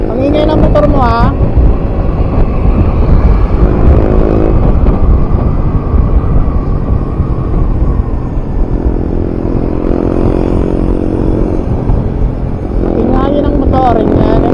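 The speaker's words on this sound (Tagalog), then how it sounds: "Ingay ng motor niya." A loud Euromotors Samurai 155 motorcycle engine runs steadily up close, revving in several rising bursts over a rough, windy roar.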